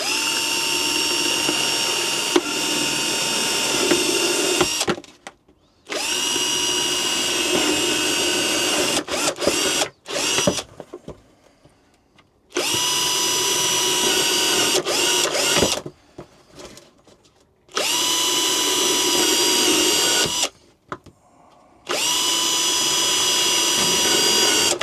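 A step drill bit bores drainage holes in a plant pot in four loud, sustained whirring bursts of about four seconds each, separated by short quiet pauses.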